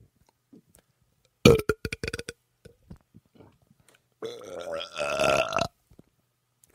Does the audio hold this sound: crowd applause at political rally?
no